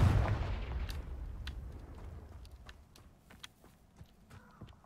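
A Confringo fire spell blast in Hogwarts Legacy, opening with a heavy booming explosion that decays into a rumbling tail, followed by scattered sharp crackles and impacts.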